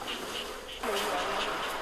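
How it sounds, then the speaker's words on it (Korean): Honeybees buzzing steadily at a beekeeping site, a dense continuous drone that swells louder partway through, with no talk. "양봉 5년 차에도 여전히 벌에 쏘이는 게 두렵다는 채원 씨"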